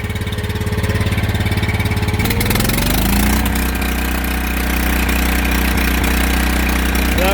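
A Kohler gas engine on a Miller Blue Star 185 DX welder generator runs rough and loud throughout, with a steady uneven chug that shifts pitch partway through as the engine settles.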